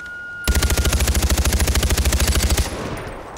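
Rapid automatic gunfire from the video game Far Cry 4, a loud, steady burst of closely spaced shots lasting about two seconds, then a short fading tail.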